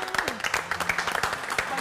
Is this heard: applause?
yes